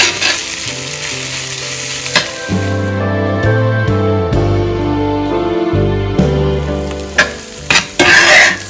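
Red onions sautéing in a pan for Kerala chicken roast sizzle loudly while being stirred, with a tonal music bed playing over the frying.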